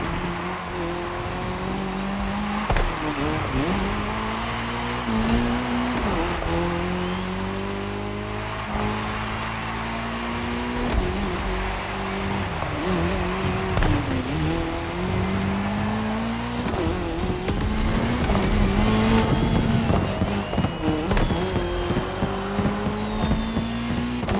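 Race cars in The Crew Motorfest roar along tarmac in a cross-terrain race. Engines climb and fall through the gears and cars pass close by again and again, with brief tire noise, loud and continuous throughout.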